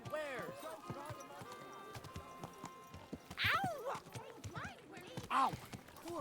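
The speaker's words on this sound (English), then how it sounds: "Hey, your horse nearly trampled me." Horse hooves clip-clop on the ground in the medieval game Kingdom Come 2, irregular steps sounding near, with speech and shouted voices over them.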